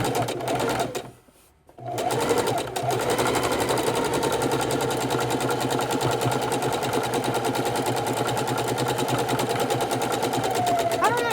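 A sewing machine zigzag stitches raw edge appliqué on a scrappy Valentine's Day table runner quilt, running fast and close with one brief stop early on, while a voice speaks over it.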